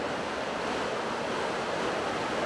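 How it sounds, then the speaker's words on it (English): St Mary Falls waterfall in Glacier National Park gives a steady, dense roar of rushing water that fills the whole stretch evenly at a moderate level, with no talking. "And there's the waterfall."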